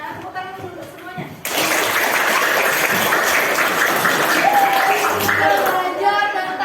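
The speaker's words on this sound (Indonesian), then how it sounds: "Tepuk tangan dulu semuanya" A classroom group bursts into sustained, steady applause after a brief spoken moment, the clapping starting abruptly and continuing loud and even until the end.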